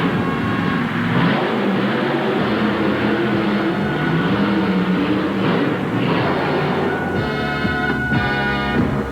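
A Ford-bodied race car with a Chevrolet engine at a motorsport event, its engine revving unevenly and stumbling from fuel problems, with sputtering bursts and changing pitch over steady background noise.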